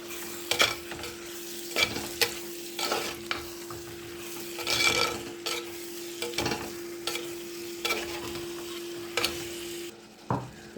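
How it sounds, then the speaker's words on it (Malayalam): Prawns stirred and frying in a pan for a prawn curry, a steady sizzle broken by repeated scraping strokes of the spoon at an uneven rhythm, close and moderately loud, with no talking. "ഇതിലേക്ക് ചെമ്മീൻ ഇട്ട് കൊടുക്കാം കേട്ടോ. ഇത് നന്നായിട്ടൊന്ന് മിക്സ് ചെയ്ത് കൊടുക്കാം കേട്ടോ."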